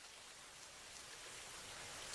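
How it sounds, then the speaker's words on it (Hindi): Rain pours down at a roadside food stall, a continuous close hiss of drops on surfaces that grows slightly louder toward the end, with no one speaking. "बारिश भी हो रही है"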